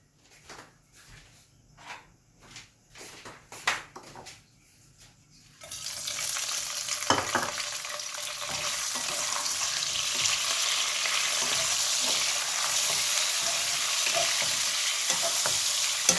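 Shrimp heads tipped into hot oil with salt and chili paste set off a sudden loud, dense sizzle that holds steady, after a stretch of light clinks and stirring beforehand.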